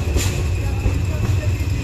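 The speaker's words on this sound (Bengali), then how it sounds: "কাউনিয়া থেকে লালমনি এক্সপ্রেস ট্রেনটি ছেড়ে দিয়েছে আমরা ঢাকার উদ্দেশ্যে রওনা হয়ে গেলাম" The Lalmoni Express passenger train pulls out of Kaunia bound for Dhaka with a steady, close, low rumble that carries on without a break.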